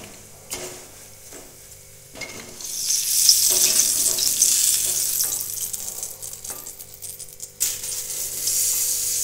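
Paneer fries lightly in a little oil, giving a soft, continuous sizzle that swells in the middle, with occasional metallic clinks and taps of a utensil against the pan.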